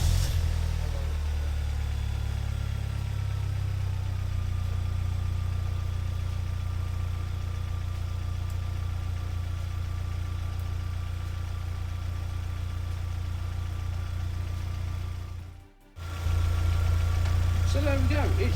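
Freshly turbocharged seven-seater minivan engine running at a steady idle, loud and close, with a constant low rumble that dips sharply for a moment near the end before recovering.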